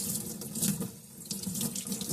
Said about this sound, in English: Rinse the cymbal very, very well.